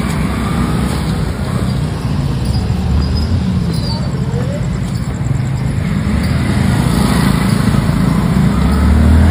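Motorcycles ridden by Dak Kanwar pilgrims relaying Ganga water drone steadily nearby, a continuous buzzing engine hum that swells slightly toward the end, with faint voices underneath.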